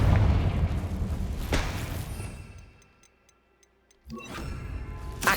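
A Confringo blasting curse bursts in Hogwarts Legacy, a loud booming explosion at the start that fades out, followed by faint ticking game sounds and then a second burst of noise near the end.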